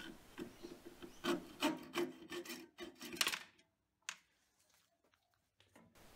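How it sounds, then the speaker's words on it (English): An old hacksaw cuts through metal stock for an adjustable scribe tool in a home shed, a handful of rough rasping strokes close by, then it stops into near silence with a couple of faint clicks. "I guess it's out with the old hacksaw"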